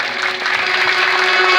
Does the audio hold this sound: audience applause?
yes